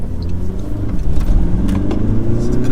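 A tuned salvage Audi A3 2.0 TDI accelerates on a country road, its diesel engine a loud, close, steady rumbling drone that builds slightly in intensity throughout.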